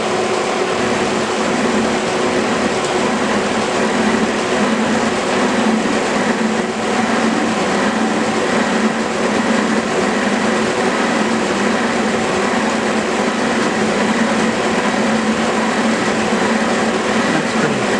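A K&T metal shaper runs a slab mill cut at 74 RPM with a slow feed, giving a steady, loud mechanical drone and grinding hum that continues evenly throughout without speech.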